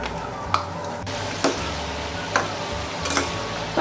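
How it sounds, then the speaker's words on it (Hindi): Namkeen snacks fry in hot oil, a quiet continuous bubbling sizzle broken by several sharp clinks and taps of a utensil against the pan, with no talking. "ऑयल गर्म होने के लिए रख दिया था और एक एक करके फ्राई होने के लिए रख देती हूँ।"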